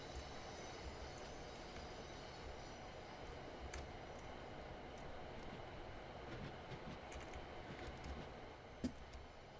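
Steady rumbling run of an Aero 3 train in Train Sim World 6, a continuous wheel-and-rail roar with faint squeals and clatter throughout, heard alone without voices.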